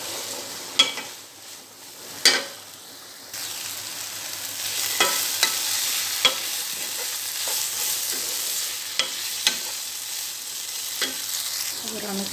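Bitter gourd and potato frying in a pan, a continuous soft sizzle broken by a few sharp scrapes and clicks of a spatula stirring and turning the pieces, with no voices.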